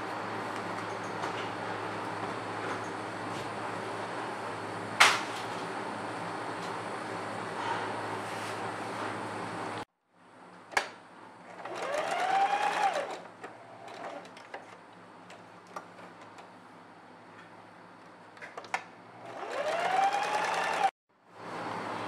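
A sewing machine stitches a pocket on children's clothing, with a steady humming run, then quieter intermittent stitching and handling, and a couple of sharp clicks, close up with no talking.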